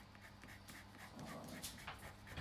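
Two dogs indoors whimper and pant faintly behind a steady background hiss, with soft breathy panting and a few thin whines.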